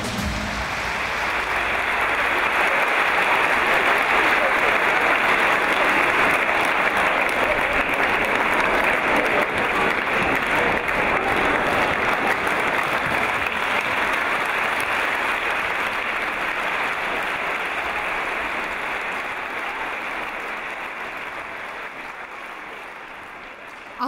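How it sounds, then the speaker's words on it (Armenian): A large audience claps warmly through a standing ovation at an Armenian jubilee honouring Aghavni Nikoghosyan; dense, sustained applause swells in quickly, holds steady for about twenty seconds, then slowly thins toward the end. "ոտնկայս ջերմ ծափահարելով"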